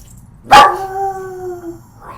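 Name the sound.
dog howling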